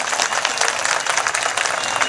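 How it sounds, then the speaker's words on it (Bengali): Dense, continuous clapping from a crowd at a political rally fills the whole stretch with rapid, overlapping claps at an even loudness. "একটা জোরে হাততালি দিন এখানে বসে।"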